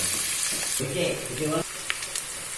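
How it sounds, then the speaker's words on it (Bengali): Onions fry and are stirred in a pan for a spicy Bengali aar fish curry. A continuous crackling sizzle carries a short tonal scraping sound partway through, then settles back to a quieter sizzle with small clicks. "পেঁয়াজটা একটু নাড়িয়ে নেওয়া হচ্ছে।"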